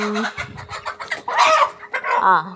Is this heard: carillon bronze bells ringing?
no